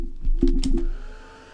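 Hair dryer blowing on wet yellow paint, a short steady whir with a faint tonal hum and a few soft bumps, no talking.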